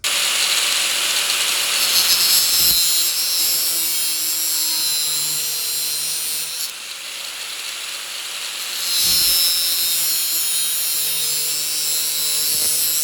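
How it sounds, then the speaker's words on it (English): An angle grinder cuts through metal hinges during micro camper frame assembly for a Honda Element, a continuous loud high-pitched whine with short dips as the blade lifts off and bites again. "we'll take our grinder and we'll cut all those hinges open"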